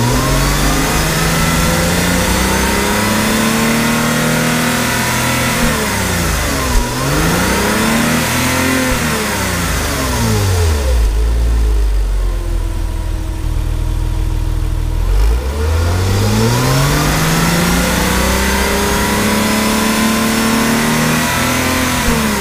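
A 1999 Porsche Boxster with its intake desnorkeled, revving repeatedly: the engine climbs and falls in several long, loud sweeping pulls, dropping back toward a steady idle between them, heard close with no talking.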